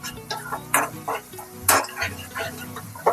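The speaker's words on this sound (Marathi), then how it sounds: "आणि परतवत राहायचं आहे म्हणजे खालचा जो मसाला तो चिटकणार नाही" A spatula scrapes and stirs thick masala gravy for pasta in a pan, making repeated clinking, scraping strokes over a low background sizzle.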